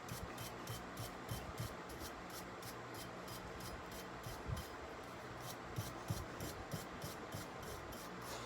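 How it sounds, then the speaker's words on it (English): A small stainless steel wire brush scrubbing greasy vise threads, a steady close scratchy rubbing with a quick repeated back-and-forth rhythm and no talking. "I need to kind of clean these threads out with a little wire brush."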